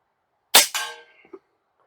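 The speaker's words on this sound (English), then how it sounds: "let's get to shooting. All right, and we'll just take some pot shots out there at that target" A single sharp crack from an AirForce Condor/Talon air rifle with an adjustable regulator fired at an outdoor target, loud and close, followed by a short ringing tail and a faint metallic tick.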